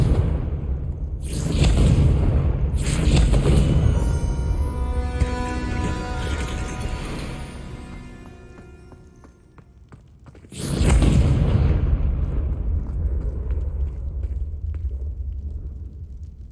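Fiery spell explosions in Hogwarts Legacy: two loud booming blasts close together, then a long rumbling decay with whooshing debris, and a third heavy boom near the end, all without speech.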